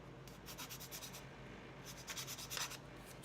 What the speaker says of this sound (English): we need to do some sanding on the gun a little bit.